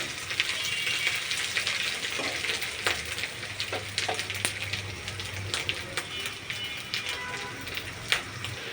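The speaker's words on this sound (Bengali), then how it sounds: "পেঁয়াজ কুচি আর শুটকি একসাথে ভেজে নিচ্ছি" Chopped onion and dried shutki fish fry in hot oil, giving a dense, close crackle and hiss, with scattered clinks and scrapes as the mix is stirred throughout.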